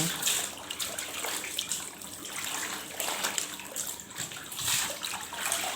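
Clothes being rinsed by hand in water, with continuous sloshing, splashing and dripping close by, steady in loudness throughout.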